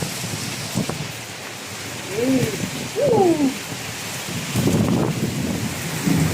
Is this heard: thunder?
yes